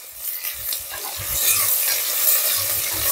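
A spoon stirs sliced green chillies through sizzling oil in a pan, with repeated scraping strokes over a steady close hiss that grows slightly louder partway through.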